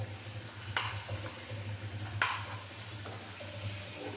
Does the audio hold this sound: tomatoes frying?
yes